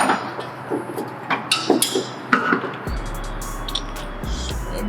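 A strut on a BMW G30 being lowered with H&R springs slides out of its mount, giving a series of sharp metallic knocks and clunks close by before a low steady hum takes over.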